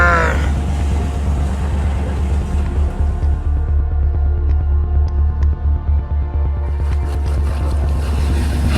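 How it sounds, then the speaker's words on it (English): A sailboat's inboard engine idles on calm water with a steady low rumbling drone and rhythmic pulsing, loud and close throughout, with faint wind and small clanks overhead. "and I turn on the engine."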